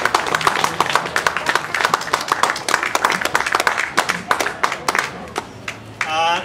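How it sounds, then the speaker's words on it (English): An outdoor crowd at Brent Green Fair claps for a speaking Member of Parliament, a dense burst of hand claps that stays fairly loud and even before fading, with a voice briefly heard at the end. "can I have a round of applause for Barry Gardiner for agreeing to come and speak?"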